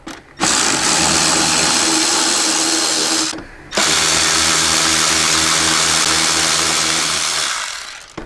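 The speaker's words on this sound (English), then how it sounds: "So we're going to remove the 2 Torx 25 bolts on each side." A power tool whirs loudly, driving out Torx 25 bolts from a Harley Road Glide headlight in two long bursts with a short pause between them, and no talk over it.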